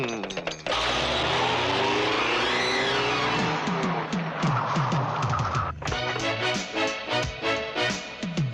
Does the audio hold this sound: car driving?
yes